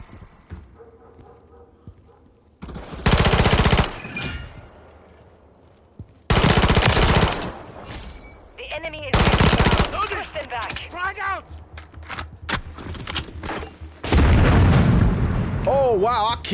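Bursts of automatic gunfire from a Call of Duty: Modern Warfare 3 match, in three or four loud, dense volleys separated by quieter stretches, with someone talking between them.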